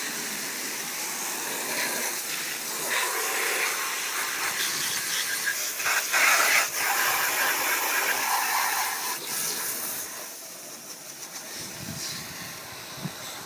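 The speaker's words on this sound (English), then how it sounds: "you'll want to spray it really good." Water sprays in a steady, hissing rush while rinsing a part, continuous and close for several seconds with small shifts in intensity as the spray moves.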